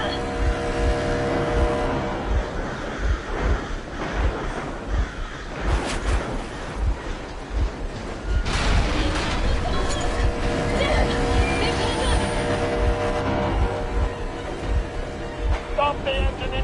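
A vehicle engine runs in the Metro video game, a steady rumble under dense game sound and possible muffled voices.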